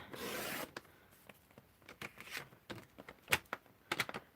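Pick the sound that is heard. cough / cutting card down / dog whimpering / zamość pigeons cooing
cutting card down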